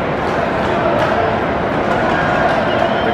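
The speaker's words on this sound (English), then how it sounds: "Braves fans cheering like crazy" Braves fans roar and cheer at a baseball game against the Mets, a loud, dense crowd din with shouts rising over a steady wall of noise.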